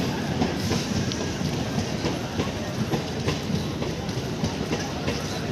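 Electric passenger train pulling into a crowded station platform: a loud, steady rolling rumble with rhythmic wheel clacks throughout, with faint crowd noise in the background.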